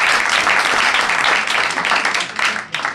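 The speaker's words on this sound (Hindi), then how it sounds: "जोरदार ताली बजाओ राधिका के लिए" A classroom of students applauds for a classmate, a dense burst of clapping that swells, dips and trails off into scattered claps over a few seconds.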